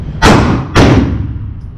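Two sharp, solid clacks a half second apart sound close up as a pistol magazine is seated into a compact handgun, a Springfield Hellcat Pro or Canik TP9 Elite SC, with only faint room hiss between them.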